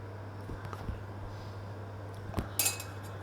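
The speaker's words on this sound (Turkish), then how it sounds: "Böyle iyice karıştırıyoruz." A spoon stirs thick pine cone jam in a pot, with faint, sparse metallic clinks against the pot's side and soft scraping in a quiet room.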